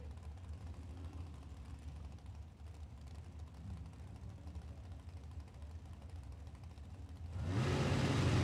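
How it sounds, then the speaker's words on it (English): A pair of drag racing cars launching down the drag strip: a steady mid-distance engine drone that swells abruptly into a loud, broad roar near the end as the cars take off. "Green lights a pair as they head down track."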